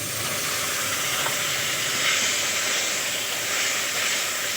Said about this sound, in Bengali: এখন আমি দিয়ে দেবো একটা টমেটোর পেস্ট।